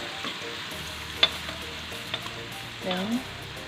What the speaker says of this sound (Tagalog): Inuna ko na po ang bawang, sibuyas.